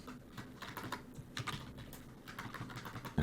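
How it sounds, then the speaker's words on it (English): Rapid typing on a computer keyboard, a steady run of light clicking keystrokes up close, with a slightly heavier key press at the end. "If I can type."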